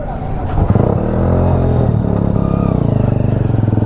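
A parked superbike in Dehradun starts up and revs, its engine rising from a low idle into a loud, steady throbbing pulse close by.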